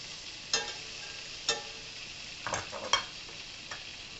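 Mashed turnip, potatoes, cabbage and carrots sizzle softly in melting butter in a frying pan, with a few sharp scrapes and clinks of stirring standing out over a faint, steady fry.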